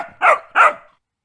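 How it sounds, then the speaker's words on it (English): A dog barks twice in quick succession, two clear, fairly loud woofs played back as a recording with nothing else around them. "If you said a dog, you got it."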